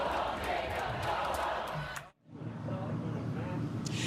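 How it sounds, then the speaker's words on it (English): A crowd at a public gathering roars with loud booing and shouting, which cuts off sharply midway and then resumes as a slightly lower mass of jeering voices. "His response leading to boos from the crowd."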